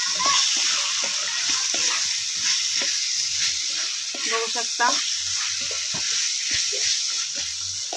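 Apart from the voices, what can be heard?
soybeans sautéing in hot oil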